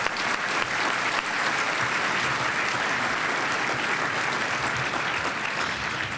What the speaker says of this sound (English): please give them one big round of applause and thank them for coming today